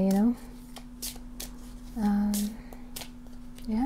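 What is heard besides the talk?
shuffling a Saturn tarot card deck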